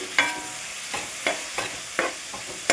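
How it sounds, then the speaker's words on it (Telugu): Sliced onions and green chillies frying in hot oil for a country chicken curry, a steady close sizzle broken by several sharp scraping stirs at regular intervals. "ఉల్లిపాయలు గోల్డెన్ కలర్ వచ్చే వరకు ఫ్రై చేసుకోవాలి."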